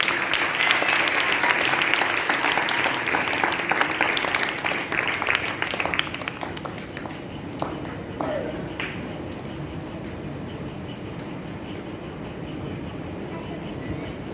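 An audience at a church convention applauds loudly for the first several seconds; the clapping then fades and gives way to quieter room noise with faint murmuring.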